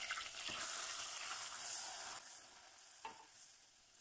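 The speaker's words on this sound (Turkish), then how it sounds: "Unun kokusu çıkıncaya kadar sürekli karıştırarak 1-2 dakika kavuralım" Flour roasting in melted butter while being stirred, a soft steady sizzle that fades slightly partway through, with a couple of light spoon taps.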